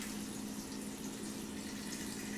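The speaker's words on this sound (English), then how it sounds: "what I want to do is just put enough water so it covers the vegetables" Filtered water pours into a pot over chopped onions and carrots for vegetable stock, a faint, steady, continuous splashing rush with a low hum and no talk.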